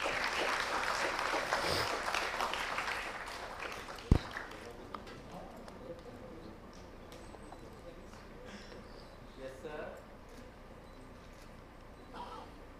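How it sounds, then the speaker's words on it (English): A large audience at an opening ceremony claps, the broadband applause loudest over the first few seconds and then thinning, with a sharp thump near the middle and voices murmuring underneath. "Can we once again have a great round of applause,"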